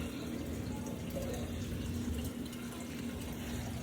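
Water from a dual-tank aquarium pump setup housing flowerhorn fish falls in a steady gentle trickle and splash, continuous and fairly close, with a low pump hum underneath.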